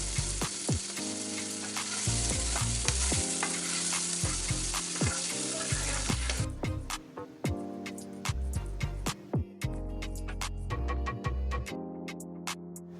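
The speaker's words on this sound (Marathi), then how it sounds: "आता आपण या कांद्याला छान प्रकारे गुलाबी रंग येईपर्यंत तळून घेऊ" Finely chopped medium onion and cumin seeds frying in hot oil for bhindi do pyaza, a loud continuous sizzle with repeated sharp clicks of a spoon stirring in the pan, the sizzle easing partway through.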